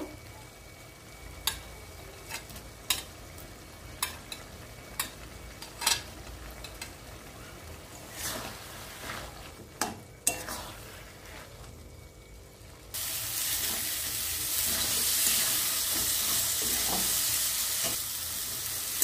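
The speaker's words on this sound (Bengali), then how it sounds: "আমি অনবরত নেড়ে নেড়ে জলটা শুকিয়ে নিয়েছি" Taro greens with fried shrimp being stirred in a pan, repeated sharp spatula scrapes and knocks over a soft sizzle, then a louder, steady hissing fry takes over for the last several seconds.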